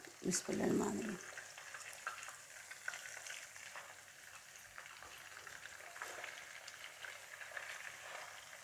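Fish frying in a pan, a soft steady sizzle and crackle running close by, with a brief louder clatter at the start and a voice speaking faintly under it.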